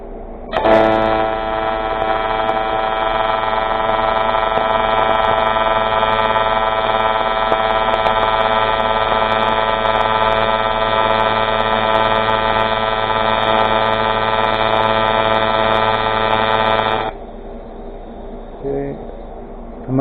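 An aluminum wheel being TIG welded, a steady loud electric hum with dense tonal buzz running unbroken for about sixteen seconds, then cutting off abruptly into quieter room sound with a few faint knocks.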